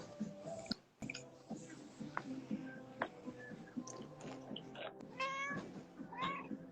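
Pet cat named Darwin meows in a quiet room, short mewing calls rising a few times over a low background hum, with soft clicking and chewing-like noises mixed in.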